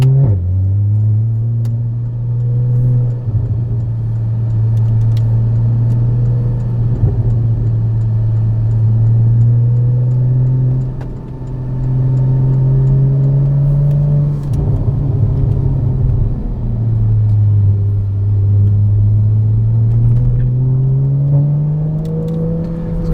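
A loud Porsche Cayman with exhaust valves drones with a deep, steady engine note heard from inside with the windows up, rising and falling through several pulls of acceleration and gear changes.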